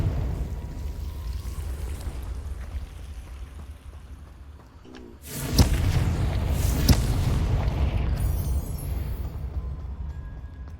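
Blasting-spell explosions from the Hogwarts Legacy video game: a deep rumbling boom erupts midway, followed by two sharp loud blasts over a low game backdrop, with no talk.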